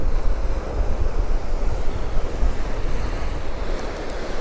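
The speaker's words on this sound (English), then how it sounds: "The waves are slamming into the post of the leg." Loud sea surf pounds continuously at Cromer Beach, waves crashing around the legs of a pier with steady wind buffeting the microphone throughout.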